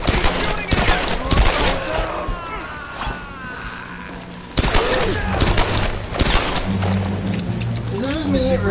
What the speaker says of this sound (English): Keep shooting at her!